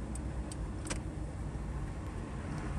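Steady low road rumble from inside a moving car on the way to the gym, with faint clicks and light rattles over a continuous hum. No one speaks.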